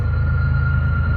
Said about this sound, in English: I would judge this as being a heavy train. He's got 5 engines leading.